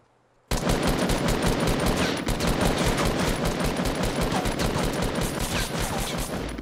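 Sustained automatic gunfire in the Fortnite battle royale game, players firing from two sides, bursting in loudly after a brief quiet start and rattling on continuously and densely to the end.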